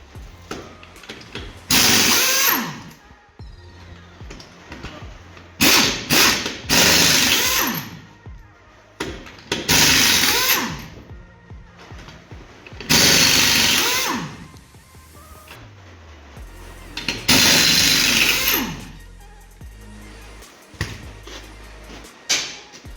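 Power tools at work taking the wheel off an N60 Toyota Hilux, coming in several loud bursts of whirring and rattling separated by quieter pauses, up close with no talking.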